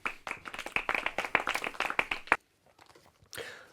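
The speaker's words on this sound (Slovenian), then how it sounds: "Hvala za aplavz, kaj ni bilo." A short burst of sharp, close handclaps from a small audience at a political event, rapid and uneven for about two seconds, then cutting off abruptly into near silence before a faint sound near the end.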